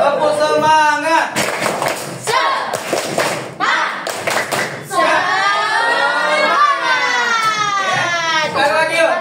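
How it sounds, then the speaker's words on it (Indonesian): Schoolchildren in a classroom perform the tepuk semangat clapping chant, with short bursts of rhythmic group handclaps alternating with loud chanted children's voices. "semuanya kita ice breaking sedikit dengan tepuk semangat"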